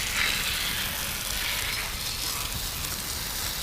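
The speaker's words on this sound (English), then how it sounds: "I'm gonna turn it up to the harder sprayer, see if we can get all this action on" Hard water spray blasting down a bicycle in a garage, a steady loud hiss of jetting water with no pauses, up close and alone.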